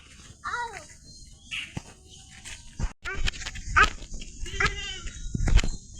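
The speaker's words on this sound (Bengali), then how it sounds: "ছাগল ডাকো না আম্মু" A goat bleats in a village yard, giving several wavering calls close by at irregular intervals, mixed with sharp knocks and other farmyard noise.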